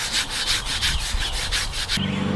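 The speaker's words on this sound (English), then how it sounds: "we're just going to lightly wire brush this concrete wherever we got a few little peeling spots" Wire brush scrubbed over a concrete pool deck to lift loose peeling stain, a rapid rhythmic rasping of repeated strokes, close and fairly steady, ending abruptly.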